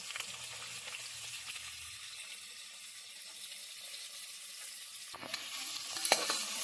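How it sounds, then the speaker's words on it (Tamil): Onions and green chillies sizzling in hot oil while being stirred for a vegetable biryani, a steady close frying hiss that runs throughout, with a few louder scrapes and clinks toward the end and no talking. "இப்போ நல்லா போட்டு நல்லா கிளறி விட்டுக்கலாம்."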